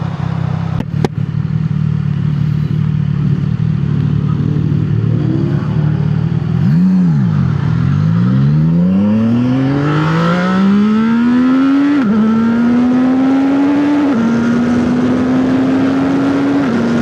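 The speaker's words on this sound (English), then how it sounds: "I think that's the only time I've actually been able to, like, perfectly redline shift it without it having to bounce off the limiter." A car engine drones, then climbs sharply in pitch toward redline, with quick gear shifts marked by sudden pitch drops and renewed climbs. It is heard from inside the car, loud and continuous.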